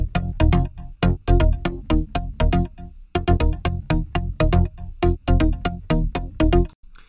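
A bass loop plays loud and punchy, with choppy repeated low notes in a bouncing rhythm and brief gaps between phrases.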